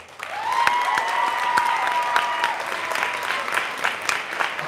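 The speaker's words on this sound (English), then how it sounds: "I'll say their name, you go applaud." An audience at a concert applauds with sustained, lively clapping from start to finish, loud and close, while a few voices call out faintly beneath it.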